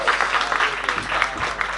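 A church congregation at a Portuguese-language service claps steadily, a dense wash of applause from a crowd that holds for the whole moment without letting up.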